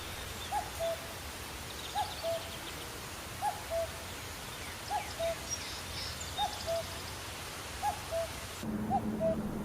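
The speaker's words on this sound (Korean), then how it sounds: "이유는 바로 이 녀석, 뻐꾸기 때문이죠." A cuckoo, a summer migrant, calls outdoors, repeating its clear two-note song about seven times at a steady, unhurried pace against soft background ambience.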